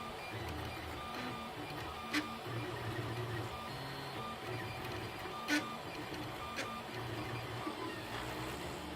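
A 3D printer lays down a small skull in red ABS filament, its stepper motors whirring and buzzing in shifting tones with a few short sharp clicks, steady and close.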